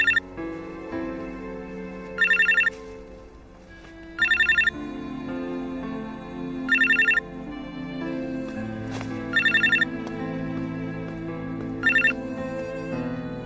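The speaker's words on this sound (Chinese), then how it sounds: "你电话。" A mobile phone ringtone sounds in six short, loud, evenly spaced bursts, with soft background music continuing between the rings.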